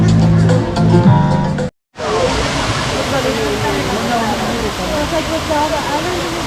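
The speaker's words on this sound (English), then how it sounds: "Wow, the sound of a waterfall." Waterfall at a zoo's Serengeti safari area, a steady broadband rush of falling water that runs on continuously after a brief gap, loud and close.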